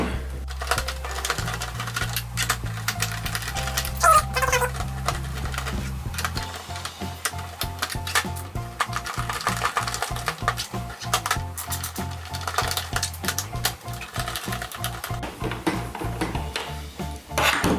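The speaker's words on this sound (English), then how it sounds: "take off these 6 screws that are holding the top and bottom cover together" Six screws backed out of a NES console case with a screwdriver, a rapid rattling, clicking stream of metal-on-plastic ticks that runs almost continuously and close up over a low hum.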